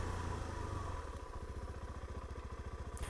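A Suzuki DRZ400SM supermoto motorcycle fords through water, its single-cylinder engine thumping in a steady rapid pulse close by, with broad splashing wash filling the background throughout.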